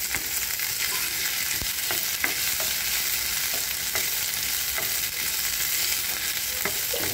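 Chopped ginger sizzles in hot oil in a pan for egg masala, a steady close crackle with scattered sharp pops and no voices.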